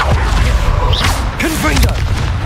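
Confringo fire spell explosions in Hogwarts Legacy, short booming bursts under a player's shouted spell call, with a couple of brief whooshing impacts amid game noise.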